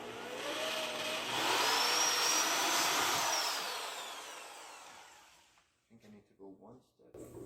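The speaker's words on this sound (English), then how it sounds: "I typically just use a step drill to knock a hole into the panel big enough to fit the latch itself." A step drill bores a hole through a Ford S550 Mustang bumper panel, a loud, steady whirring grind building over several seconds and then winding down, with a person talking briefly afterward.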